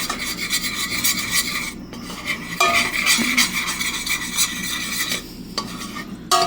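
Spoon scraping and stirring cornstarch into a steak cheese sauce in a pan, continuous close rasping strokes with faint sizzling beneath and no speech.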